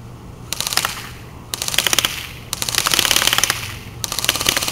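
Bursts of rapid fully automatic fire from a Classic Army MP5 airsoft gun, four long strings of fast snapping shots separated by brief pauses, loud and close with no voices.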